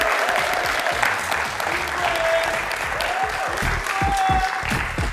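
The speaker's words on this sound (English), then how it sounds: "Give them a round of applause." Dense, steady applause from a large audience for two university debaters, Njuguna of Strathmore and Mohammed Abdullahi of Nairobi, filling the room continuously with a few voices faintly audible underneath.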